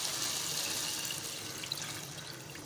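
Water is poured into a pan of frying potatoes for a potato and badiyan curry, giving a steady splashing rush that tapers slightly, with no voices.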